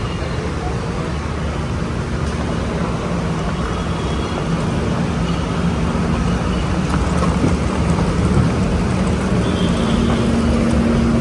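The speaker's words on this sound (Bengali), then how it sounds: "দেখো কত বৃষ্টি হচ্ছে, প্রচুর বৃষ্টি হচ্ছে" Heavy rain pours at a railway station in Jharsuguda, a dense, even hiss that stays loud and unbroken throughout, with faint traffic-like rumble underneath.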